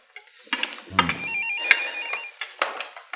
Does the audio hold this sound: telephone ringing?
yes